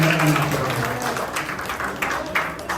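An audience at a Basava Jayanti lecture event claps together, a dense spread of applause with some voices mixed in.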